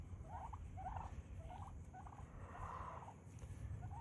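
Male turkey gobbling nearby, a rapid warbling burst repeated several times at short intervals over a low outdoor rumble of wind.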